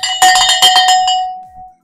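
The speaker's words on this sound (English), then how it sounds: "Let me grab my bell. I'm going to ring this bell." A hand bell rings in a quick burst of about six close, bright metallic strikes, then its tone fades out.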